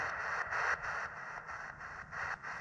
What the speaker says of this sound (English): that's supposed to be white noise